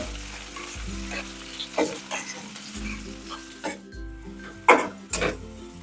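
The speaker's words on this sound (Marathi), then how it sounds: "कांदा आणि लसूण हे छान आपण परतून घेऊया." Onion and garlic sautéing in a hot pan for bhendi bhurji, a steady close sizzle with a spatula stirring and occasionally knocking against the metal in several sharp taps near the end.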